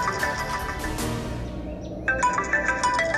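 A melodic phone ringtone chimes in a short repeating pattern, clear and close, following a fading musical passage.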